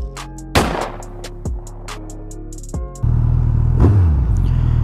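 A Suzuki Hayabusa motorcycle engine after a throttle body sync, heard up close with a steady low drone, several sharp revs and clunks, then a louder, fuller roar as the bike gets going.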